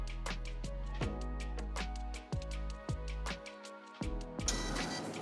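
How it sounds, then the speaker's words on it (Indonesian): A Bluetooth thermal receipt printer for a cashier app runs a test print, its motor whirring steadily with rhythmic line-feed clicks and stepping changes in pitch, ending in a brief rougher burst. "Klik printer Bluetooth-nya, kemudian pilih kategori printer ini. Setelah kita sudah pilih, kemudian kita tes."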